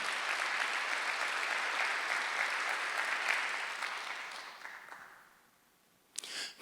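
Sustained congregation applause during a Sunday church service, a dense even roar of many hands that gradually fades to silence, followed by a brief rustle.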